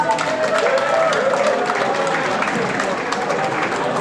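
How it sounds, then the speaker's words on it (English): Audience applause at a school charity dance show: dense, steady clapping from a large crowd with cheering voices mixed in, continuous throughout. "Applause, everyone!"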